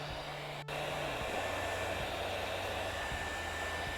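A steady, loud hot-air blower drying paint whirs continuously, with a low motor hum underneath and a brief dropout near the start.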